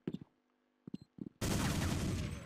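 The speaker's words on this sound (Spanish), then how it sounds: "Cuidado que siento disparo por este lado." Gunfire in Counter-Strike 1.6: a few sharp, isolated shots ring out, then a sudden dense burst of rapid fire holds loud and steady to the end.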